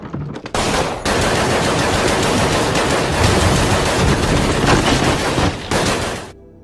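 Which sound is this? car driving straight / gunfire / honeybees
gunfire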